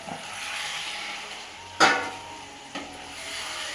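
Chicken pieces frying in a pan in a home kitchen, with a steady close sizzle broken by a sharp stir or clatter of a utensil against the pan near the middle and a softer knock later.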